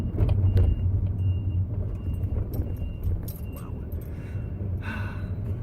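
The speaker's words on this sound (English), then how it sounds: "there's a ton of traffic" Heavy road traffic surrounds a car from inside, a steady low rumble of engines and tyres with small interior clicks and a faint rustle.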